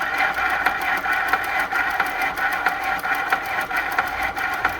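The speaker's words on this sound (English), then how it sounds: "And it sounds like my belt guard is rubbing." A Juki LS-1341 clone industrial sewing machine runs its motor for bobbin winding while the belt guard rubs, giving a steady close whir marked by regular scraping pulses about every half second.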